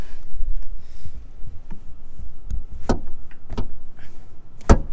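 Rear seats of a 2018 Mustang GT Performance Pack being folded down inside the car, a few sharp clunks and latch clicks over quiet interior rustling.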